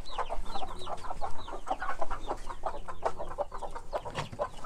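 Desi chickens at a low-cost poultry farm cluck and squawk continuously in a busy, layered chorus, with a faint crow rising now and then among the nearby birds.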